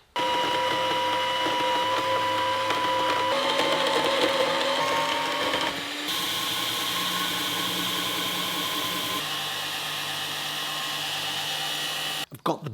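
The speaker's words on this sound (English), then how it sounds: "I'm going to cut it on the bandsaw so I don't set my life on fire" Bandsaw cutting a piece of titanium in a workshop: a steady, loud mechanical whine and hum running for about twelve seconds, its pitch shifting slightly as the cut proceeds, then cutting off abruptly near the end.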